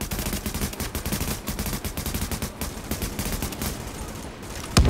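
Rapid, sustained turret gunfire from The Division video game rattles on as a loud, continuous burst of closely spaced shots that lasts for several seconds.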